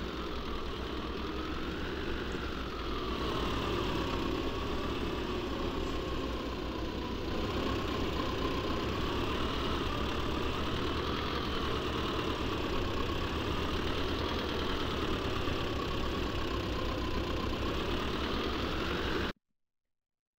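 A tractor engine in the Farming Simulator 22 video game runs at a steady idle, a continuous mid-pitched rumble with slight rises in revs, before cutting off abruptly at the end.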